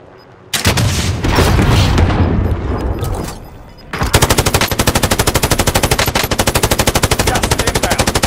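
An M249 light machine gun in Modern Warfare fires a dense burst, pauses, then rattles off a long rapid automatic string, loud and close with booming gunfire in the game mix.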